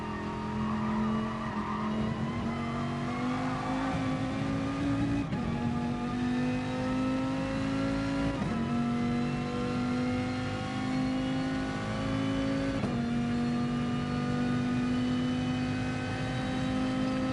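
Dodge Viper race car at Fuji circuit in a racing video game, its engine droning loud and steady, pitch climbing through each gear then dropping at shifts around every three seconds, continuous throughout.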